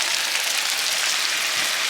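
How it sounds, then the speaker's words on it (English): Potatoes and onion frying in butter in a pan, a steady bright sizzle with constant crackling spatter, close and fairly loud, with no talking. "There's the potatoes and onion, just frying up in some butter."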